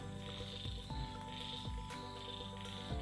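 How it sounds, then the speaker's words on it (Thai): Frogs call across rice fields at dusk, a dense chorus of croaks and trills layered with insect chirps, steady and moderately distant with no talking. "เสียงกบเสียงเขียด เออเต็มทุ่งนาน่ะ"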